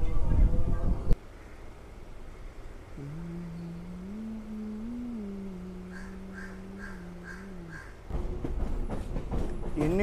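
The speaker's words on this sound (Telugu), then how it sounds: "తండారిపేట నుంచి అయితే మా ట్రైన్ బయలుదేరింది సెంట్రల్కి" A train on the line from Tamil Nadu toward Nellore rumbles steadily along the track, with a long tonal horn or wheel squeal in the middle and louder rattling clatter at the start and end.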